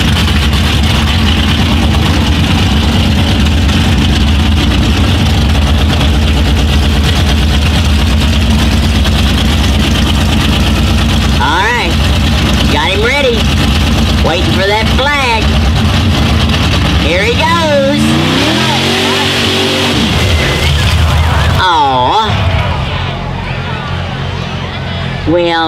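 Ford mud bog truck on tractor tires at a county fair mud bog, its engine droning loud and steady with revving swells, crowd voices and an announcer heard over it.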